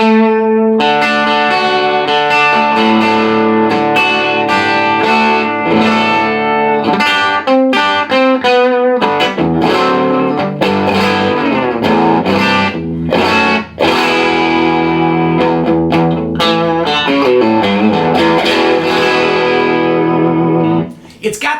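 Collings 470JL electric guitar played through its Ron Ellis bridge pickup with heavy distortion, ringing out loud, sustained chords and riffs with short breaks and pick attacks, dense and continuous for over twenty seconds.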